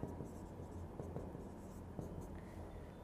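Pen or chalk writing out a maths formula by hand, a steady scratchy stroking with faint taps between strokes, heard up close over a loud background hum.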